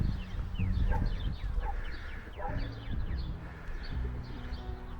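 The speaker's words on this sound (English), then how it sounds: "we can hear the pigeons up there." Pigeons coo in a cathedral garden, soft throaty calls repeating faintly from somewhere above amid quiet outdoor ambience.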